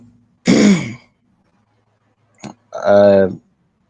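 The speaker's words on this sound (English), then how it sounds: "I don't know if it's like a sinus problem or something, but it's coughing." A single harsh, throaty cough-like burst close up, then a short click and a longer voiced grunt after a pause.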